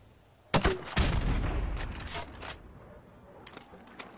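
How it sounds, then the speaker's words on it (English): Grenade launcher firing grenades in Call of Duty 4 Remastered: a sharp loud launch thump followed by a second burst, then another round of blasts a second later, with a faint high tone hanging in the background. "Now pop a grenade into windows 5,"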